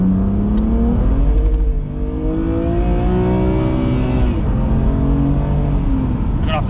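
A 720 bhp 2020 Audi RS6 accelerating hard, with loud, close engine and exhaust roar and rising revs through a gear change.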